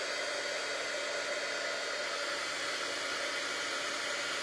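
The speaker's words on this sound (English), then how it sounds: "Do we have an embossing tool? Heat tool?" A heat tool for card embossing blows continuously at close range, a steady loud rushing whir like a hair dryer with no pauses and no voices over it.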